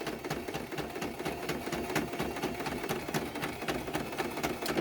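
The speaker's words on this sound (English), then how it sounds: "So what I usually do is I sew a little bit, then I back stitch." A sewing machine stitches a fabric face mask with a fast, even mechanical chatter, running close and continuous with the steady rhythm of the needle through forward and reverse stitching.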